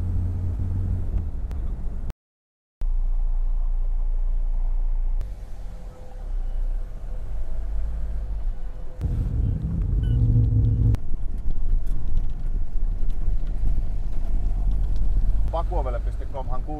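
An old Ford Transit van drives into town, its engine rumbling steadily with shifts in pitch as it moves through traffic, while people talk inside over the noise.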